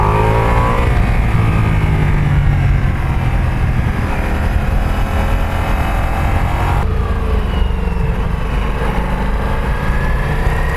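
A Ducati Multistrada V4S motorcycle ridden through Alpine roads, its V4 engine droning loudly and continuously with rising and falling revs under heavy wind rush, close up.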